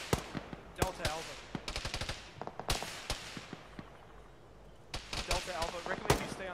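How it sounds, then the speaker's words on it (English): Gunfire in a military video game, with bursts of sharp cracks and rapid rattling shots, some near and some farther off, separated by short lulls. Voices are faintly present underneath. "Got all these whizzing bullets"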